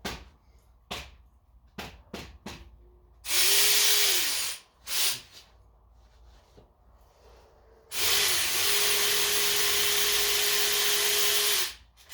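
A power ratchet working on the exhaust of a 2014 Ford Mustang GT, two sustained bursts of whirring motor with a hissing rush, the second one longer, with short clicks and knocks in between.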